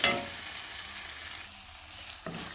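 Ginger-garlic paste frying in a pan for a potato kurma: a short, soft hiss of sizzling oil, faint and close, with a brief sharper crackle near the end.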